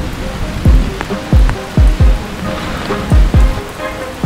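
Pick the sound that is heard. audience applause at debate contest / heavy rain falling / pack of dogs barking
heavy rain falling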